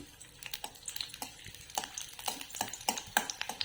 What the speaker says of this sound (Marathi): खूप ब्राऊन करायची नाही हलकी आपण लसूण परतून घ्यायची